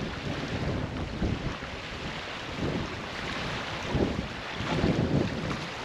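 Steady wind buffets the microphone with a low, rumbling roar that rises and falls in gusts, outdoors in Key Largo, with no voices.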